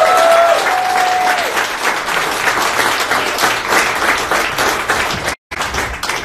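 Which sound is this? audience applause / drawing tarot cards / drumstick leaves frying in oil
audience applause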